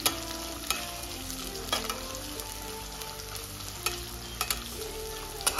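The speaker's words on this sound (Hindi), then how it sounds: "इसे हमें अच्छे से 5 मिनट के लिए फ्राई कर लेना है।" Green chilies and garlic fry steadily in a pan for pickle-making, a continuous close sizzle with occasional stirring clicks and scrapes throughout.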